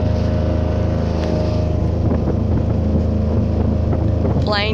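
Motorboat with a new outboard motor cruising on open water, a steady loud engine drone with heavy wind buffeting the microphone throughout.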